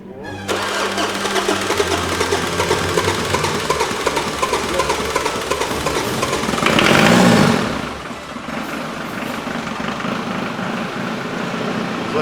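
A vehicle engine under field repair cranks and catches, running loud and rough with a brief rev surge midway, then keeps running steadily close by.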